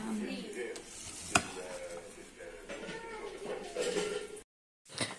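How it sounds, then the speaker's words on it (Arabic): Fish frying in a pan in a home kitchen gives a steady sizzle and crackle throughout, with one sharp clink. The sound cuts off briefly before resuming. "صافي دزت تنقلي في الحوت، قلي درت الحوت في واحد المقيله هنايا"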